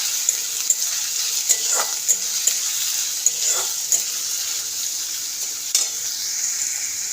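Sliced onions, three of them, fry in a pan for a masala tadka, giving a steady close sizzle throughout with occasional stirring scrapes and clinks; no one speaks.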